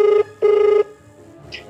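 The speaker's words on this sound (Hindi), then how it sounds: "बस अंकु, अंकु को फोन कर लेते हैं" Phone ringback tone heard during an outgoing phone call, two steady electronic beeps in a ring-ring pattern, loud and close, followed by a short pause.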